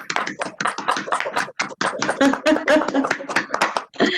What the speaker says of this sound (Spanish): Hacemos el aplauso.